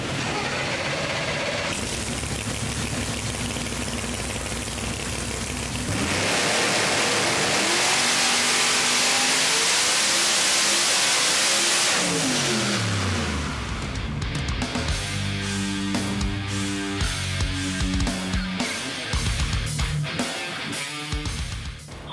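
A Dodge Demon built for X275 drag racing roars on a dyno, its engine climbing through long, loud revving sweeps, dropping back, then surging again with choppy, shifting engine tones toward the end.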